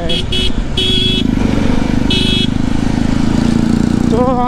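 A loud Apache motorcycle runs on the road with a continuous low engine rumble, while horns toot in short bursts and a voice rises near the end.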